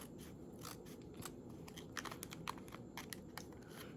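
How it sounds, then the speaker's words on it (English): Scissors snip through a fabric tag on a pair of socks in a rapid series of close, crisp clicks and cuts, several snips in a row with no talking. "I'm going to cut that tag off by cutting part of the tag"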